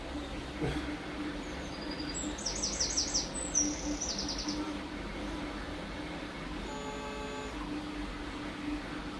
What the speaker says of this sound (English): the world's loudest blackbird has just turned up